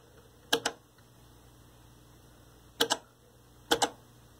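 A vintage Lloyds 8-track player switches tracks with three separate mechanical clunks, each a quick double click. They fall near 0.5, 2.8 and 3.7 seconds and are heard up close over a quiet, steady hum.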